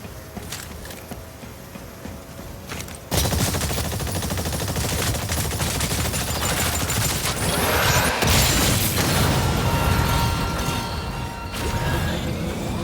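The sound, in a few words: heavy artillery gunfire in ExoPrimal video game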